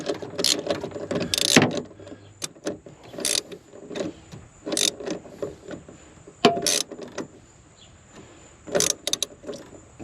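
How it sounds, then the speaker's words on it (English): Hand-tightening a suspension bolt on a Pontiac GTO: irregular bursts of ratcheting clicks and metallic turns, close up, with pauses between strokes and no voices. "Let's tighten as much by hand as possible"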